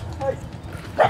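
Dogs barking at night, with a sharp bark or two near the end of a short stretch, heard under people talking.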